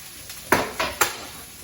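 Garlic goes into a pan with broccoli chickpea pasta on the way, giving three sharp close clacks of utensil on pan, each trailing off into a brief soft sizzle, with no talk.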